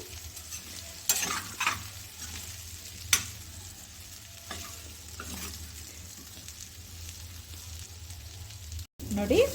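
Green peas and cauliflower fry in a pan over a medium flame, giving a soft, steady sizzle broken by intermittent scraping stirs of a spoon against the pan.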